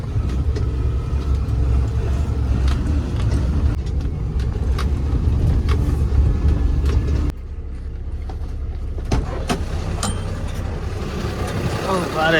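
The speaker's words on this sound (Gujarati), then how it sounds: "હવે જઈએ સાઈડ ઉપર ગાડી લઈને" A car driving to a Narmada canal construction site in Gujarat, giving a steady, close engine and road rumble that continues throughout while people talk inside.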